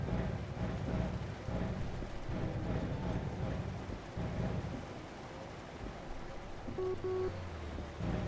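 A thunderstorm in the video game American Truck Simulator, steady heavy rain with low rolling thunder throughout, loud and continuous with no talk.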